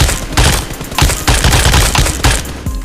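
Rapid bursts of gunfire from a standing shooter in the mobile battle-royale game PUBG Mobile, about six or seven loud, close shots spaced fairly evenly with no talk over them.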